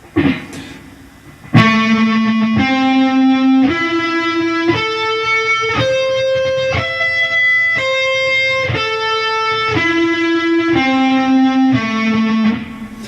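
A distorted electric guitar plays fast repeated sweep-picked arpeggio runs with pull-offs, each note ringing clearly with an effects-laden tone, steady and alone without any talking.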